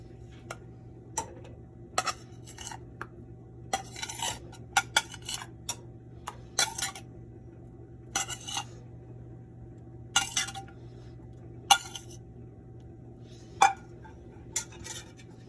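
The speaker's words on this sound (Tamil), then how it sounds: "இந்த ஒயிட் சாஸை மெதுவா அந்த ராவியோலியில நல்லா மிக்ஸ் பண்ணிக்கோங்க" Vegetable ravioli gently stirred into a creamy white sauce in a pan: scattered light clinks and taps of a utensil against the pan, irregular and fairly close, over a steady low hum, with no talking.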